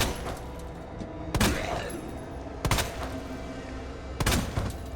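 Three loud, sharp handgun shots spaced about 1.5 seconds apart in Resident Evil 2, each a single booming crack over a steady low ambient game background.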